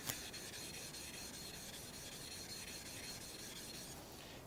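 Two sharpening stones rubbed flat against each other make a continuous gritty, rasping scrape, steady and close throughout with no voices.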